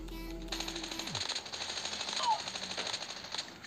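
Rapid automatic gunfire in a shooter video game, a fast steady stream of shots over background game music and effects for a few seconds.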